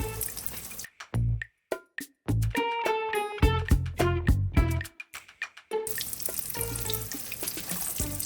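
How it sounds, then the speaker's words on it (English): Crackling, popping hiss of chicken frying in oil, steady at first, broken by a run of sharp clinks and taps, then the sizzle returns. "I'm going to finish frying all these up"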